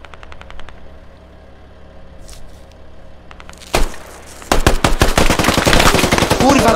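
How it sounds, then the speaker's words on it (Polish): Rapid bursts of automatic gunfire in a multiplayer shooter game, Squad, erupt after a quieter stretch with a few scattered single shots, growing loud and continuous toward the end. "Strzały są."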